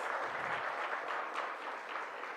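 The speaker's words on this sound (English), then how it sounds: "Yes, that deserves a round of applause." Crowd applause for a cherry blossom festival team at an official announcement, a dense, continuous wash of clapping that holds at an even level throughout, fairly distant and without any voices over it.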